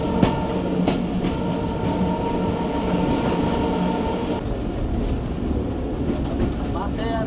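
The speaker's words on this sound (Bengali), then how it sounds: "ঝকঝকে ঝক ট্রেন চলছে" Tungipara Express passenger train running on rails toward Rajshahi, heard from inside as a loud continuous rumble with rhythmic wheel clatter and a steady tone, with people talking faintly over it.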